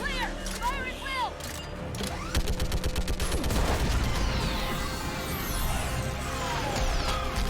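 Mass Effect 3 combat rages with rapid sustained weapon fire, bursts and booms layered with whooshing effects and battlefield noise, while voices shout over the din.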